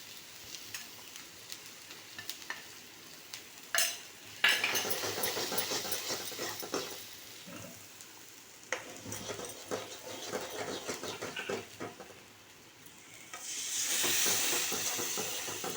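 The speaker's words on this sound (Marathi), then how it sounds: "एवढा जरासं मटणाचं सूप घालायचं आणि हा मसाला शिजवून घ्यायचा." Masala cooks in a pan with a splash of mutton soup, quiet at first with scattered clicks and stirring, then bursting into a sizzling hiss that swells again near the end.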